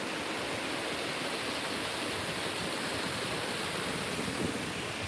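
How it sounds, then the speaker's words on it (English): Waterfall in a park, a steady full rushing hiss of falling water that holds level throughout, close and fairly loud with no voices. "Peaceful waterfall."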